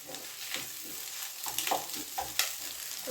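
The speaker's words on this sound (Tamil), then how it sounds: "இந்த மாதிரி நம்ம நல்லா கொத்தி விட்டுட்டோம்னா அந்த சிக்கன் வந்து ஃபுல்லாமே நமக்கு மிக்ஸ் ஆகிடும்" Street-style chicken fried rice is stir-fried and chopped with a spatula in a hot pan, giving a steady sizzle broken by irregular metallic scrapes and taps.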